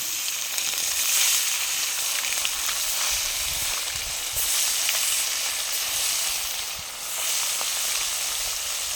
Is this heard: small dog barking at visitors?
no